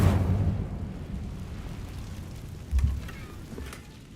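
A fire spell is cast in Hogwarts Legacy with a deep whooshing burst at the start, then a low crackling rumble and a second muffled thump partway through, all moderately loud.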